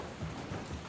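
Rain in the Dying Light: The Following video game, a brief steady wash of falling rain with low rumbling underneath, fairly quiet and continuous.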